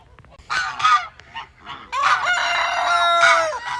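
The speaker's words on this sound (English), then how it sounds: "See how the rooster calls over the girls." Pastured farm rooster calling his hens over to food, a series of loud close clucking and crowing calls in short bursts followed by a longer drawn-out call.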